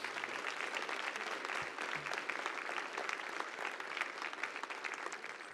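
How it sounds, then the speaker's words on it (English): An audience at a city council meeting gives a steady round of applause for the retiring Long Beach fire chief, with dense clapping running throughout. "Let's give him a big round of applause."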